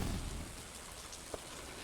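Steady rain patters on a rainy day in the farming game Stardew Valley, with a low rumble of thunder fading early and a single faint click, dense hiss continuing without voices.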